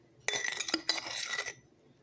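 A spoon scooping hot cocoa mix into a glass gives a brief, close burst of clinks and scraping against the glass, lasting about a second before fading to quiet.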